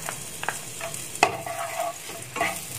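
Chopped shallots fry in hot cooking oil in a pan, a soft steady sizzle broken by scraping strokes and clinks of a spatula stirring, close and fairly quiet, with no talking.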